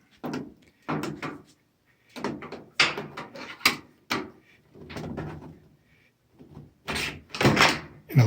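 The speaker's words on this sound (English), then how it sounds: "And it lifts it off the hinges." A GE GFDR270EHWW dryer door being lifted off its hinges, producing a series of close, separate clunks, rattles and knocks spaced irregularly with short quiet gaps between them.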